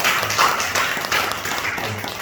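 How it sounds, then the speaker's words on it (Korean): Church congregation applauding a visiting member who has stood up, a steady wash of many hands clapping at moderate level throughout, with faint voices underneath. "박수 한번 해요"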